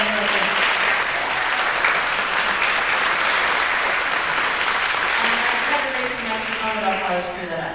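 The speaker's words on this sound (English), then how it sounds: "So big round of applause for our director, Nick." An audience applauding choir director Nick at a school choral class event, dense sustained clapping from a large crowd that fills the room at even loudness and tapers slightly near the end.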